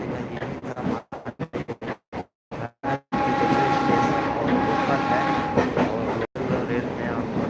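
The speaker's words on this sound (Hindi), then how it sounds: "देखिए ट्रेन का रियल आवाज़ जो है आप सभी को सुनने को मिल जाते हैं" Inside a passenger train carriage travelling from Bajpatti to Muzaffarpur, loud rhythmic clatter of wheels over rail joints gives way to a continuous roaring rumble with a steady tonal whine, heard up close.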